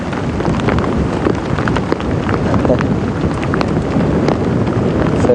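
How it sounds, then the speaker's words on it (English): Rain and gusting wind wash over the microphone in a steady, loud roar during a game drive at Djuma Game Reserve, with a voice speaking now and then. "And you hear the rain, everyone."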